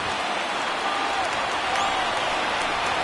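A baseball stadium crowd of over 39,000 at a Dodgers versus Angels game stands and cheers with the Angels down to their last strike, a broad, steady roar of distant voices and applause filling the space.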